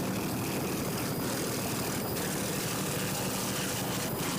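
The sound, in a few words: racing powerboat with two 200-horsepower Mercury outboard engines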